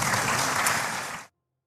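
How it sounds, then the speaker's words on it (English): A round of applause for a discussion panel at an investment conference, dense steady clapping that fills the room and then stops abruptly. "Please give my panel a round of applause."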